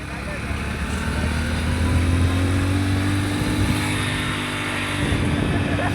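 Motorcycle straining up Taranga Hill, its engine droning steadily with a rough, laboring tone amid wind noise, a voice talking over it throughout.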